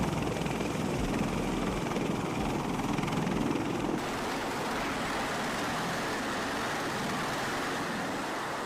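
A CH-53E Super Stallion heavy military helicopter, a loud, dense, steady rotor and engine roar filling the whole stretch, with a slight change in tone partway through and no voices.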